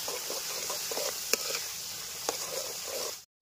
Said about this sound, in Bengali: দিয়ে দেবো পরিমাণ মতো চিনি, দিয়ে দেবো এবার একটু মিক্স মশলা, ভালো মতো নাড়িয়ে নেবো।